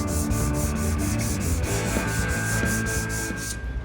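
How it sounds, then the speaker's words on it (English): A sanding block is rubbed by hand over a surface sprayed with guide coat, producing a steady, close, rhythmic scraping of quick back-and-forth strokes, with no talk. "I'm going to start sanding on this side that I sprayed the guide coat on first"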